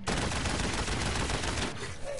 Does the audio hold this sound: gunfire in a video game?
yes